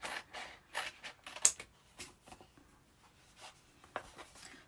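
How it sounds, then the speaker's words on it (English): Transfer scissors snip through a thin transfer sheet in several short, quiet cuts with light rustling between them, close and faint. "Using our transfer scissors that we have."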